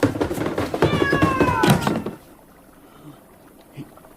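A cat meows in a radio drama, a rising drawn-out cry with several clear tones, close and fairly loud, amid busy room noise and knocks before the scene falls quiet.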